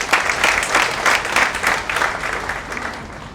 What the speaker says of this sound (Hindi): तो इसके लिए भी तालियां होनी चाहिए।